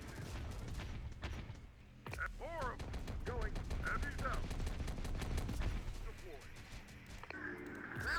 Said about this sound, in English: Just let the rotary cannon do its thing.